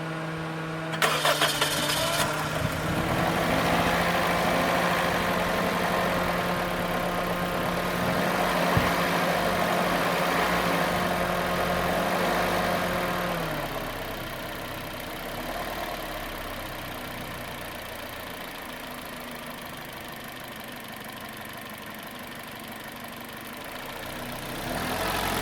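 A car engine idles and warms up after starting, a steady mid-pitched hum with a sustained tone that fades after about thirteen seconds, leaving a quieter, rougher running sound.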